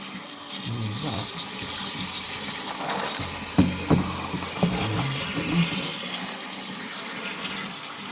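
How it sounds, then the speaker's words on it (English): Water rushes steadily through a flushing tube pushed into the heat exchanger of a Worcester boiler, a continuous hiss with a few brief knocks and clatters partway through. "put the tube into the heat exchanger and turn it on."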